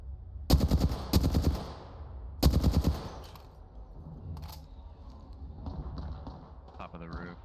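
Three rapid automatic bursts of gunfire ring out up close in Apex Legends, each about half a second long, followed by quieter game effects while voices talk over the action.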